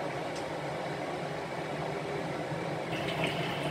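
Tofu pieces fry in about 500 ml of hot oil in a wok over medium-low heat for a braised tofu and eggplant dish. A continuous close sizzle holds steady and rises slightly near the end.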